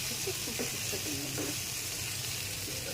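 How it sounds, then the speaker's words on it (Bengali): Pumpkin chorchori frying in a pan over medium heat, a steady, dense sizzle that holds evenly and close throughout with no voices. "অনেক জাল দিলে পুড়ে যাবে, তাই হালকা মিডিয়াম আঁচে ভাজতে হবে।"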